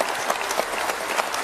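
Brief round of crowd applause following a speech at a live politics chat show, steady clapping from a modest audience at moderate volume with a few sharper individual claps standing out.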